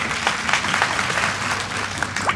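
An audience at a Hindi speech event claps steadily throughout, a dense, fairly loud wash of applause with scattered sharper claps and no speech over it.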